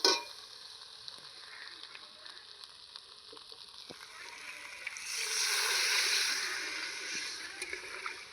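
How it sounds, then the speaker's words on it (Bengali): Water poured into a pan of spice masala that is already sizzling in oil, for a potato and eggplant fish curry; a steady frying hiss under faint clinks swells into a louder, broader gush of bubbling partway through. "এবার জল দিয়ে দেবো।"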